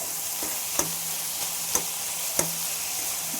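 Roasted peanuts are stirred into red amaranth greens frying in a pan, a steady close sizzle broken by three sharp scraping knocks of the spoon at regular intervals.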